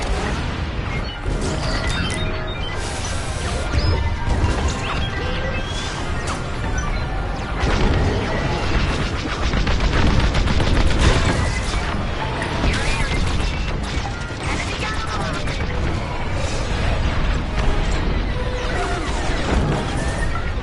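Missile strikes and explosions during a Star Wars Squadrons space dogfight: a dense, loud wall of booming crashes and rumbling blasts that continues without a break.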